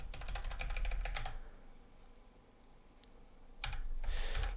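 Rapid clicking keystrokes on a computer keyboard come in two short bursts separated by a quiet pause, close and crisp over faint background hiss.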